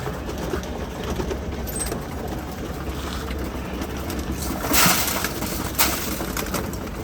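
Racing pigeons coo softly while feeding over a constant background rumble and hiss, with a couple of brief louder noises.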